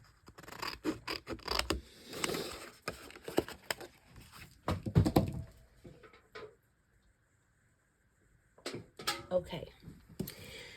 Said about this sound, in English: Cut away the score line. And cut away the score line.